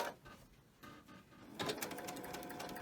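Sewing machine stitching quilt fabric for a teacup quilt block, a quiet steady whir that starts softly and turns into a louder, rapid stitching rattle partway through.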